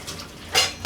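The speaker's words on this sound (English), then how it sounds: "Rinse it all around." A stainless steel juicer part gets a brief rinse under a sink tap, a soft running-water wash with a louder splash near the end, short and close.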